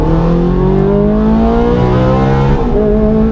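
A Ferrari F430 races a BMW M3, with a loud, sustained engine roar whose pitch climbs steadily through the gears and briefly shifts near the end, close and dominant with no voices.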